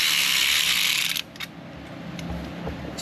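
A ratcheting speed tool whirs rapidly on a Jeep Wrangler 3.6 engine, with a bright, fast clicking buzz for about a second that cuts off abruptly and leaves quieter shop noise and faint clinks.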